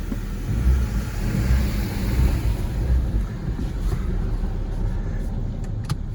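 Old junkyard car engine idling, a steady low rumble with a faint throb, close and continuous with no voices.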